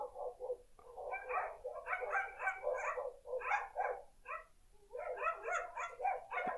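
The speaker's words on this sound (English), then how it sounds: "dogs in my neighborhood just started barking." Dogs in a neighborhood bark repeatedly in quick, overlapping bursts, faint and somewhat distant, with brief pauses between the runs.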